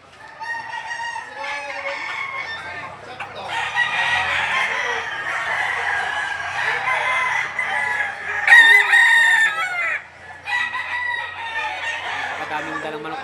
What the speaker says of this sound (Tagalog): Daming dalang manok ito.